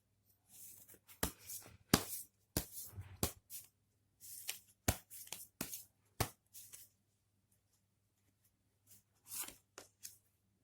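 Tarot cards are drawn and handled in a quiet room: sharp, close slaps and flicks of cards come in irregular clusters with pauses between them, fading near the end.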